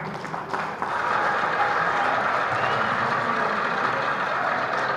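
A college alumni reunion audience applauds, a dense, sustained clapping that rises after a brief start and holds steady and moderately loud throughout.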